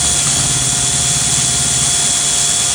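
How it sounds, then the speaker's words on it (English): A Bosch power drill fitted with an 8mm bit runs at full speed with a steady, loud, close whirring whine that holds without a break, during work fitting a heated-gear controller to a KTM 1290 S motorcycle. "Right, now this is the 8mm going."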